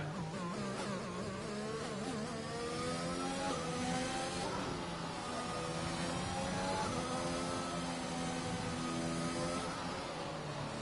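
A race car engine on an out lap around Monaco in a sim racing game drones steadily and close up, its pitch climbing and dropping repeatedly through gear changes without pause.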